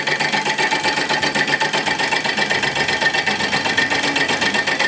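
A solenoid engine built from scrap parts running fast, a loud rapid mechanical clatter with an even, buzzing repetitive beat that holds steady throughout, close by with no talk.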